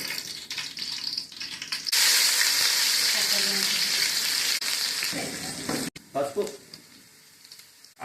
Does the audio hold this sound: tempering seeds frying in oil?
yes